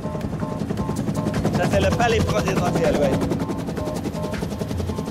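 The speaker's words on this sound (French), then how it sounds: "Dans un hélicoptère de la MINUSTAH" A UN MINUSTAH helicopter in flight over Port-au-Prince, Haiti, its rotor chopping in a fast steady pulse inside the cabin while someone talks over it.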